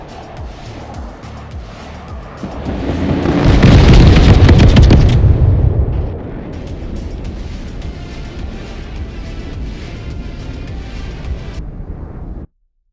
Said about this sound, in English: You'll see the density of rockets is just so much higher.